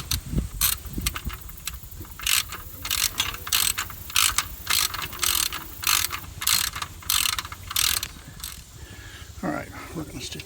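A ratchet wrench loosens bolts on the timing belt cover of a 2005 Subaru Forester, rattling out rapid bursts of clicks in an irregular rhythm with short gaps between strokes, close and clear.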